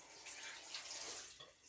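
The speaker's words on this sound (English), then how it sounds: "So I'm going to get some water in that pot, get it covered up." Tap water pours steadily into a stock pot being filled for water bath canning of chicken stock, a soft continuous splashing hiss at low level with no talk.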